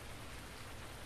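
Steady rain falls in a farming video game, a dense, even hiss of drops on surfaces holding constant for the whole short moment with no other sounds.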